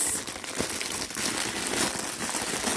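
Plastic packaging crinkles continuously while a parcel of yarn mail from an Easter swap is unwrapped, a close, steady rustle with a few sharper crackles and no talking.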